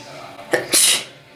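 One loud, close sneeze from a woman, with a short sharp intake of breath and then a bright explosive burst.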